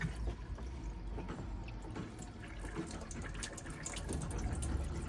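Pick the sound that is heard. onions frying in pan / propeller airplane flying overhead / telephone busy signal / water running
water running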